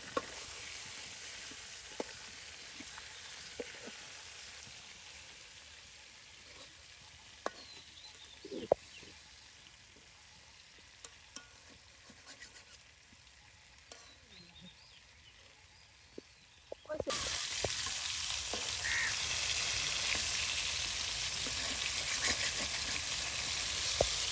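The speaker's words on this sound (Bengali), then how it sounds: "এই যে কত সুন্দর মাছ ভেজে নেওয়া হচ্ছে" Oil sizzling and crackling as fish fries, quieter at first with occasional clinks and stirring, then a louder steady sizzle in the final stretch.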